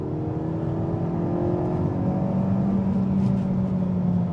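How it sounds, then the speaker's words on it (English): A Kia Cerato GT's exhaust drones steadily while the car accelerates under load. The engine note is a smooth, continuous hum heard from inside the car, with no talk. "under load, the exhaust actually sounds quite nice"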